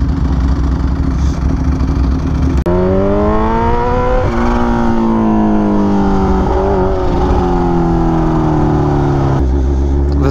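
Kawasaki Ninja H2 motorcycle engine at full power, a loud, continuous roar that climbs steeply in pitch, breaks with a shift, then keeps climbing and rising through the gears before settling.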